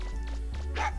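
A dog in the video game Mega Man Legacy gives a few quick, yappy barks over a low, steady game hum.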